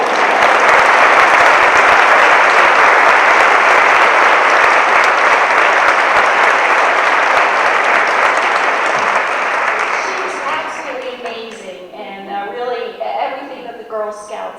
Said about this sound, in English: why don't we give a round of applause to the real star of the video, Ivy.